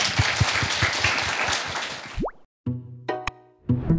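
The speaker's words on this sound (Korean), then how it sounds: "큰 박수 부탁드리겠습니다." Studio audience applause at a Korean beauty consultation talk show, a dense burst of clapping that cuts off abruptly, followed by a rising tone, a sharp pop and brief musical sound effects.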